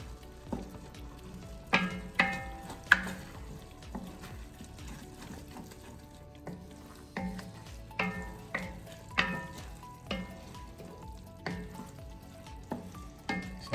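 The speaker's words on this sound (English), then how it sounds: "I'm going to put 4 ounces of that cheese, roughly, in the mix, and stir that in." Shredded cheese being stirred into cheeseburger rice in a pan, a soft sizzle under a string of scraping and clacking spoon strokes at an uneven rhythm, fairly quiet; no talk.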